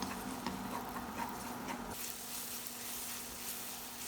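Garlic and scallions sautéing in hot oil in a pan, a steady close sizzle with faint stirring scrapes, growing broader and hissier partway through, with no talk.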